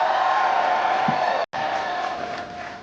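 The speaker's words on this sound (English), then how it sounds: "what a great crowd" A large crowd cheers and whoops at an election victory speech for Maryland Senate projected winner Larry Hogan, a dense sustained roar that cuts out briefly midway and then resumes.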